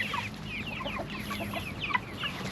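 A flock of backyard chickens clucks busily and close by while pecking at leftover feed, a continuous chatter of overlapping short clucks with no talking.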